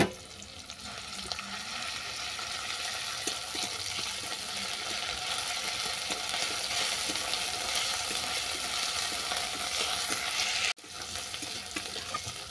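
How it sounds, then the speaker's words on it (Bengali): Garlic paste and onions fry in a pan for a Bengali koi fish curry, giving a steady, close hiss of sizzling with light stirring throughout, broken by a brief drop near the end. "রসুনটা কিছুক্ষণ ভেজে নেওয়ার পর দিয়ে দিচ্ছি আদা বাটা আর দিচ্ছি পেঁয়াজ বাটা।"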